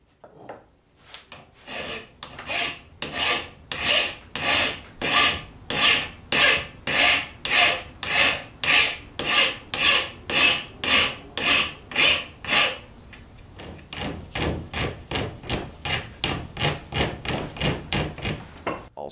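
A rasp files a wooden carving knife handle to round off a point beneath the blade, a steady run of close, rhythmic scraping strokes that shift to quicker, lower strokes near the end.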